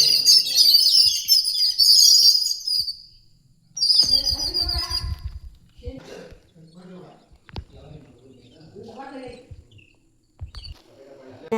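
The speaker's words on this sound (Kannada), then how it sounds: "ಅಲ್ಲಿ ಅಕ್ಕಿಗಳು ಬೇರೆ ಇತ್ತು, ಅವು ಸೌಂಡ್ ಮಾಡ್ತಾಯಿದ್ದೋ" Birds chirp among trees in a rural village setting, bright rapid tweets in bursts near the start, then fainter calls while a person talks over them.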